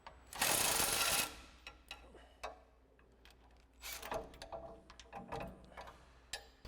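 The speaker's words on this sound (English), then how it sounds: "we'll grab our 18mm socket and a swivel adapter with an extension on our impact and support our shock and remove that top hat nut" Impact wrench with an 18mm socket, swivel adapter and extension zipping the shock's top hat nut off a 2015-2020 Ford F-150, one loud close burst followed by fainter clicks and handling knocks.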